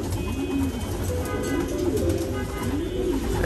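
Pigeons in a racing pigeon loft coo steadily in repeated rising and falling calls, close and fairly loud, with a constant background hum running underneath.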